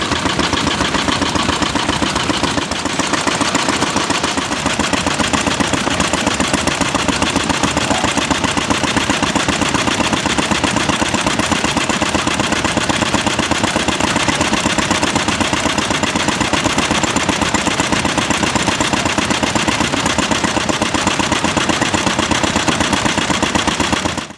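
A small vintage stationary engine runs steadily at a vintage engine show, driving a pre-1940 Super Rapid centrifugal pump, a loud close rhythmic chugging with a constant knocking pulse that holds unchanged throughout, and no voices.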